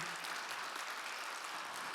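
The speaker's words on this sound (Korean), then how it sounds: "늘 감사하다는 박수로" Audience applause of thanks for the chairwoman at a childcare-sector awards ceremony in Korea, a steady wash of many hands clapping heard from a distance, soft and even.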